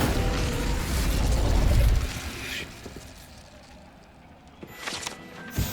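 Incendio fire spell in Hogwarts Legacy: a loud low whooshing burst of flame that swells and fades over a couple of seconds, followed by faint crackles and a quieter pop later.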